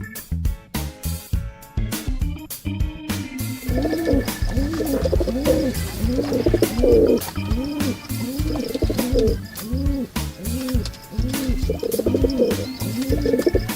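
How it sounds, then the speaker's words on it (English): A pigeon coos in a steady, repeating rhythm, each soft throaty call rising and falling in close succession, clear and close with no voices over it. "Pigeon."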